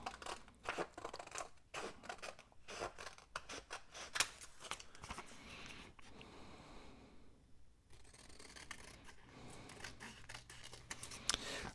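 Scissors trim a textured paper craft tag in quick, close snips, a steady run of crisp cuts with small rustles of paper between them and no talking.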